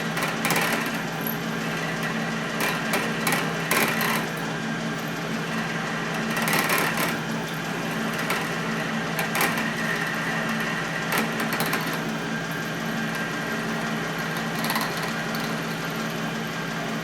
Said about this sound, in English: I'm drilling through the centre drill hole in the middle